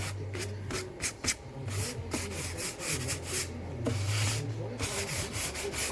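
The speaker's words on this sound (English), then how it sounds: "I'm just gonna do like some light distress sanding on the edges" Fine 180-grit sandpaper rubs over the edges of painted wooden furniture for light distressing, a close, uneven run of scratchy back-and-forth strokes with brief pauses.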